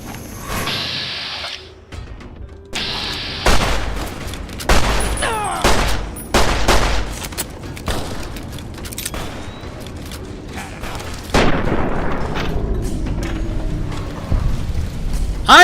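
Gunfire in Fallout: New Vegas: a few separate loud shots, then a quick burst of cracks around the middle and more blasts later, mixed with clanking mechanical weapon sounds and short gaps of quiet.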